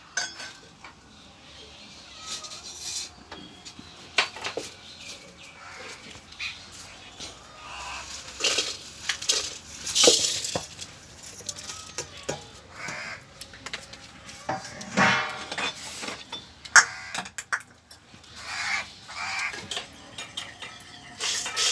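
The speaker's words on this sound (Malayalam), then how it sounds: "നമുക്ക് മുളകും മല്ലിയും വറക്കാം" Chillies and coriander seeds dry-roasting in a pan, with intermittent scraping and metallic clinks from stirring, fairly quiet and irregular throughout.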